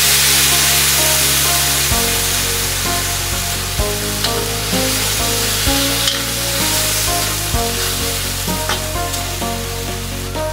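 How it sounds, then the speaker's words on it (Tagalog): Pork adobo being stirred in a pan after soy sauce is added: loud continuous sizzling with scraping strokes of the utensil roughly every two seconds, close and alone without speech. "Haluin lang natin ng konti."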